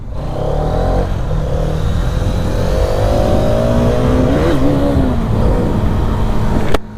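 A Hero Karizma XMR 210 motorcycle's engine revs under acceleration, a loud, close, continuous drone whose pitch climbs and wavers for several seconds before it cuts off abruptly.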